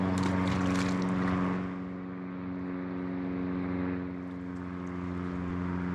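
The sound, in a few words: airplanes flying overhead near Soldotna Airport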